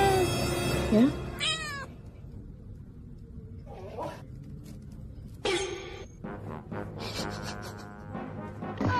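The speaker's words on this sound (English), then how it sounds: "Meow, meow, meow, meow." A cat meows repeatedly in short, tonal calls spread across several seconds, with pauses and a few other brief noises in between.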